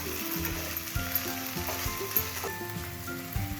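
Chicken crispy sizzling in a hot pan as a spoonful of tomato ketchup is stirred in, a steady close frying hiss with scraping and clinking from stirring over a faint tonal background.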